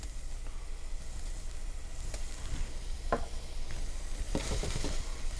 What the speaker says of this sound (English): Then throw the butter in.